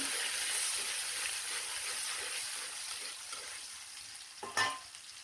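Onions frying in oil in a pan for a bean, potato, tomato and cauliflower dish, a steady broadband sizzle throughout with a brief louder stir or clatter near the end.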